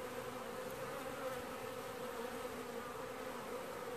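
Honey bees drone steadily at a hive on a warm 25°C October day, with workers out on orientation flights; the buzzing is dense, continuous and close, with no voices over it.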